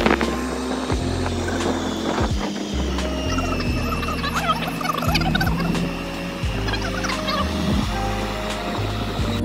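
Chickens outside village houses near Kapaleshwar, calling repeatedly in short bursts over a steady rumble of movement, with other fowl-like clucks scattered through.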